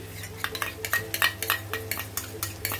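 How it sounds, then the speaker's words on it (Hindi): Yogurt being stirred into dum aloo masala in a pan, with quick, rhythmic scrapes and clinks of a spoon against the pan, close and distinct over a low background hum. "अब ये दही डाल के अच्छी तरह मिला देते हैं और लगातार चलाते रहने का।"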